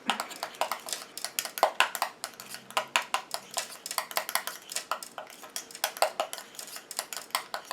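Fragrance is stirred into homemade flower hand cream with a utensil, giving quick, rhythmic clinks and taps against the container, close and fairly quiet.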